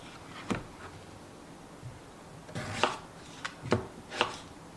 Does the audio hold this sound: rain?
no